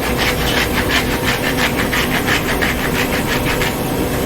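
Salt being ground in a hand grinder with its cap left on, a loud, steady run of rhythmic gritty crunching strokes, close up, with no speech.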